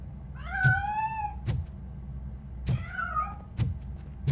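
A cat in the RoboCop: Rogue City video game gives two rising-falling meows, clear and fairly close, with soft thumps between them and no talk.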